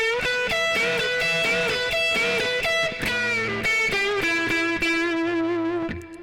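A distorted electric guitar plays a quick riff of bright sustained notes with pitch bends, loud and alone, ending on a fading note.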